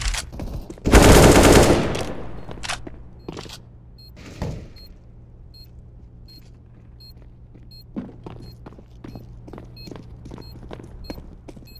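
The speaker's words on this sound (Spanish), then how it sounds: "I'm throwing a flashbang." A flashbang grenade thrown in CS:GO: a loud, dense burst of noise early on, followed by a quieter gap and then a series of scattered sharp clicks and thuds, with no speech.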